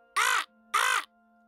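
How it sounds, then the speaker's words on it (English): Two harsh, raspy crow-like caws from a bird, each about a quarter second long, loud and close against a quiet background with no speech. "Get away, you filthy bird!"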